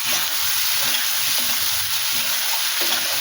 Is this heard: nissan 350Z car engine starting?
no